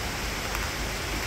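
Steady, dense hiss of heavy rain pouring down in Benguet, a constant wash of noise with no gaps or voices.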